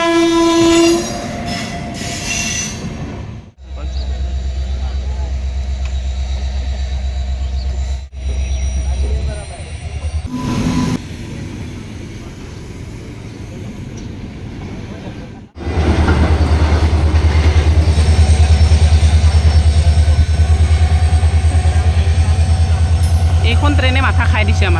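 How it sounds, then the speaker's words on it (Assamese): A train rumbles past loudly with a heavy low roar, wheels clattering and squealing, and a horn blast sounds amid the passage; the noise drops briefly twice before resuming strongly. "এইখন ট্ৰেইনে মাথা খাই দিছে আমাৰ"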